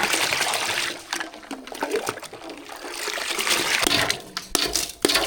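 Buttermilk drink being stirred by hand to blend in ground spices, giving a steady close liquid swishing and sloshing with brief splashy peaks, no voices.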